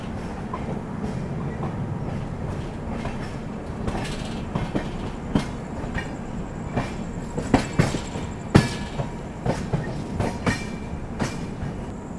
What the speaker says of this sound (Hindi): निकल गई अपनी Lucknow AC superfast express Bareilly junction से।